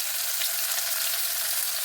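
Chopped green garlic and green onion sautéing in a pan give off a steady, close hiss of sizzling that runs evenly throughout, with no voices.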